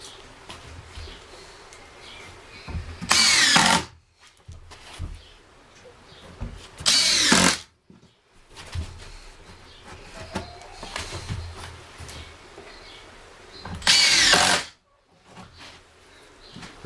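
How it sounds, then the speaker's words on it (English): A power drill countersinking screw holes in the wooden floor of a chicken coop, three short loud whirring bursts of under a second each, spaced several seconds apart, with quieter handling noise between them. "probably don't need to be countersinking, but it makes nicer holes for the screw heads."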